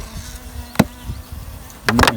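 Honey bees buzz at a hive while winter feed is topped up under insulated crown and feeder boards. A steady low hum runs throughout, with a few sharp knocks and a louder burst of close buzzing near the end.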